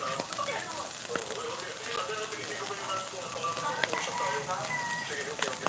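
Grasshoppers fry over a strong fire, giving a steady, fairly quiet crackling sizzle with scattered sharper pops.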